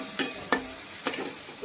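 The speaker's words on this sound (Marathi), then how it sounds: "इथं पोह्यांचा कांदा पण परतलाय." Onion for kanda poha being sautéed in a pan, with a few sharp scrapes of a spatula stirring over a steady soft sizzle, close and fairly loud, without talk.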